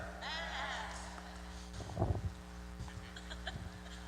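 A person imitates a sheep with a wavering, nasal bleat, sounding close and fairly loud over a steady low hum.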